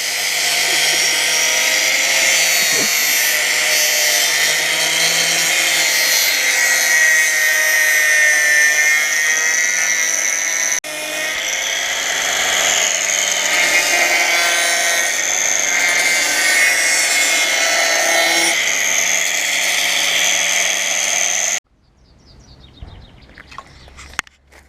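A power tool whines loudly and continuously while cutting a moped reinforcement bar to size for an MBK 51 frame, with a short break midway, then stops abruptly near the end, leaving faint workshop noises.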